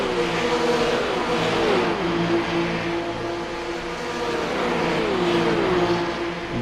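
GT Open race cars at Daytona passing in a continuous loud engine roar, with rising and falling revs as several cars sweep through, fairly close and without talk.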